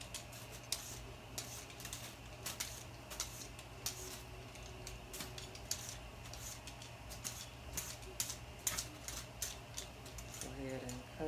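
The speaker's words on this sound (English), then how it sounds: "when you cut with the knife, you really be cutting a lot of the cucumber because it's so soft" A kitchen knife slices through soft cucumber on a cutting board for pasta salad, giving steady repeated light clicking chops at close range across the whole stretch, with a faint voice now and then underneath.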